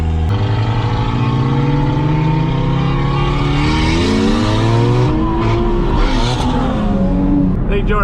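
Mitsubishi Eclipse GSX and Nissan 350Z roll race from about 20 mph: loud, close engines rev and climb through gears, pitch rising in sweeping steps with a brief shift dip, steady roar throughout.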